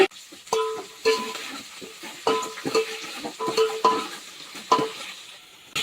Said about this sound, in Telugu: ఉల్లిపాయలు బాగా గోల్డ్ కలర్ వచ్చేదాకా వేపుకోవాలి